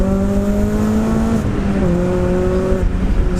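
A Renault Clio RS 197 drives hard, its engine droning loudly and close as it pulls through the revs, with two quick gear changes breaking the rising tone.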